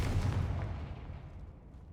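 A Confringo fire spell in Hogwarts Legacy goes off as a single deep booming blast, loud at the start and then rolling away into a fading rumble.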